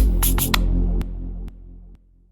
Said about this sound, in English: Delay is kind of an echo effect.